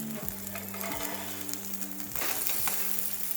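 Squash and cheese pupusas fry on a flat pan over medium heat, giving a soft, steady sizzle with a few scraping, ratcheting clicks as they are turned.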